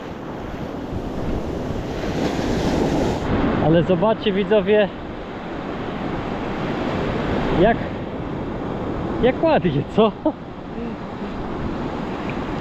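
Sea waves surge and break around someone standing shin-deep in the water, a continuous roar with strong wind buffeting the microphone, while someone talks over it in several bursts.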